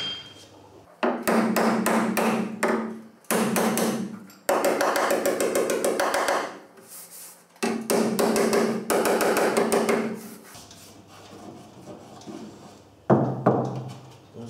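Rapid bursts of metallic hammering on a VW Golf VI sill panel ring out in several long runs separated by short pauses, loud and close, with a faint voice in a gap.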